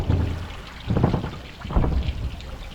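Water trickles and sloshes into a small leaking boat in soft, irregular gurgling pulses, close and low, with a wind-like rush underneath.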